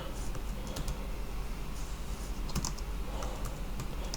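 Typing on a computer keyboard while entering a search prompt on a Linux Mint system: a few light, scattered key clicks over a steady background hiss, with no talking.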